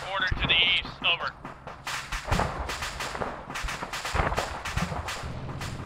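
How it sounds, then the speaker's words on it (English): Incoming RPG or mortar fire in a military shooter campaign: several sharp cracking impacts and bursts at irregular intervals, moderately distant, mixed with radio chatter and voices. "Some sort of RPG or mortar to the east."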